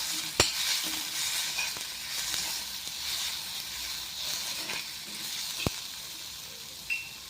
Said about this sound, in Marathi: आता ह्याच्यामध्ये आपण थोडंसं लसूण परतून घेणार आहोत